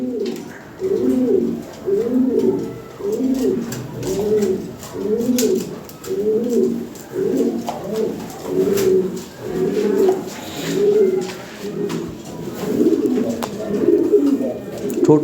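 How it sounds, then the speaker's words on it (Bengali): Lahori Sirazi pigeons cooing up close, a steady run of repeated rolling coos in even rhythm that continues for the whole stretch, with faint voices in the background. "দুইটাই অনেক সুন্দর কবুতর"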